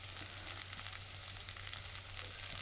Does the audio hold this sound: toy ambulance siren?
no